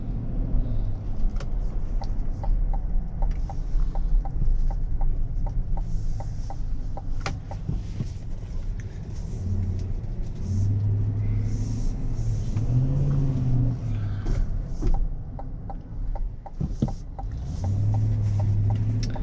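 A 2024 Chevrolet Suburban Z71 rolls along the road with a low engine rumble and road hum heard from inside the cabin, with brief rises in engine tone and faint clicks.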